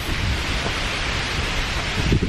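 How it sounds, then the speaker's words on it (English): Heavy rain on the Appalachian Trail, a steady loud wash of rainfall with low rumbling thunder underneath and a slight swell near the end. "it's raining a lot"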